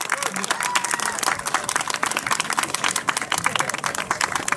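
Audience at a 2019 All-Japan trials motorcycle championship award ceremony in Tohoku, applauding and cheering, a dense continuous patter of clapping from a crowd throughout.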